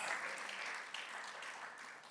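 A congregation claps together during a Sunday church service, a soft, sustained patter of applause heard from a distance in a large hall.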